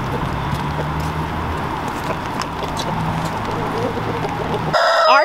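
Backyard chickens cluck and call repeatedly under steady rain, with clustered clucks throughout and a sharp, close crow-like squawk at the very end.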